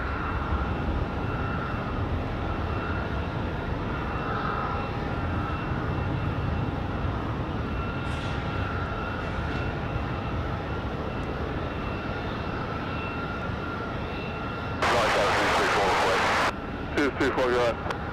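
An American Airlines Boeing 777 heavy jet departs at night for London Heathrow, its engines a sustained broad roar under radio chatter, with a brief burst of static-like noise near the end.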